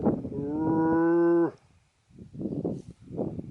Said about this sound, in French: c'est les vaches de l'Aubrac